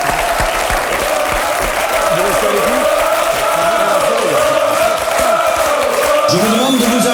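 Steady applause from a French television studio audience, dense and continuous throughout, with faint voices mixed in.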